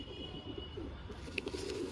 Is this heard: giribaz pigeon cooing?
yes